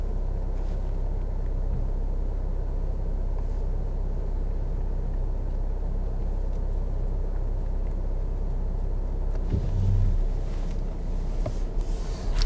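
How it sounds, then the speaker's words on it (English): A Volvo V90 Cross Country with 190 horsepower and all-wheel drive corners and slides with traction control off. A steady, low engine and road rumble fills the whole stretch, with a slight swell near the end. "190 horsepower, all-wheel drive, throw it into this corner, hold the bend, hold the slide, throttle out, cross steer"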